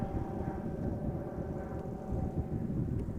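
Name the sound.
Embraer 190 airliner arriving from Brussels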